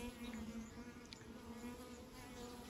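A wild honey bee swarm settled in a hive box gives off a steady, faint buzzing hum that holds evenly throughout, with no voices.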